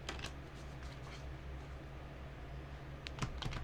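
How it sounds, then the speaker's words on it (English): A deck of quote cards is shuffled close by, soft rapid clicking and riffling bursts at the start and again near the end over a low steady hum. "we're going to shuffle these quote cards up"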